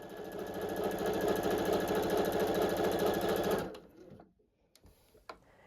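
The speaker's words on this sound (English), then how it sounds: "I'm going to sew on both sides of this line at a scant 1/4 inch." A sewing machine runs fast and steady, stitching a quilt seam at a scant quarter inch in a rapid, even mechanical chatter. It stops abruptly partway through, leaving quiet with a few small handling clicks.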